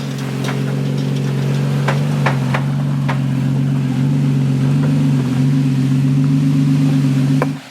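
A third-generation Toyota Tacoma TRD Off Road crawls slowly over rocks in 4 low with the rear locker engaged and tires aired down, its engine holding a steady low drone broken by a few faint knocks and clunks.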